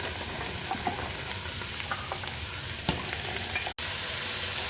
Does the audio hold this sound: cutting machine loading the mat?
no